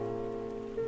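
Rain from a Minecraft weather mod falls as a soft, even patter over a steady humming tone, with no voices.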